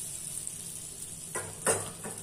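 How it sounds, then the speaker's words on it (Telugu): Hot tempering (popu) is poured into an eggplant and coriander chutney. A quiet room gives way to two short, sharp bursts of sizzling close to the microphone, with a faint clink of the pan. "స్టవ్ ఆఫ్ చేసుకుని పచ్చళ్ళలో వేసుకుందామండి పోపు అనేది"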